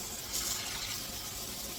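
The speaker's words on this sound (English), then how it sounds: "The water is now running clear" Faint, steady splash of tap water running while a cast iron pan is rinsed in a sink, soft and continuous with a slight surge early on.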